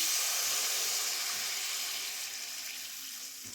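Water pours steadily into a pan of oil-cooked spice masala for undhiyu, a hissing rush that slowly eases over a few seconds.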